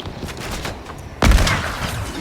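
A sniper rifle shot in a battle-royale video game, one sharp loud crack partway through after quieter game ambience.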